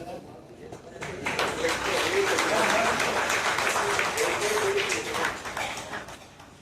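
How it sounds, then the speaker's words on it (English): Seminar audience at an Eastern Railway women's forum event in Kolkata breaks into sustained applause, swelling after a quieter start and holding steady, with voices talking over the clapping. "Let the clap continues."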